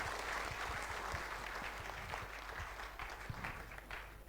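A training-session audience gives hearty applause for a retired army subedar, steady dense clapping from a crowd heard at moderate distance and fairly low level, holding evenly before easing slightly toward the end.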